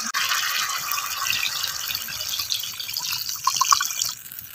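Water is poured over potatoes cooking in a pan for a village-style Rohu fish curry, giving a steady splashing, sizzling hiss that swells briefly toward the end.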